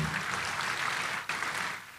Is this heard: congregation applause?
yes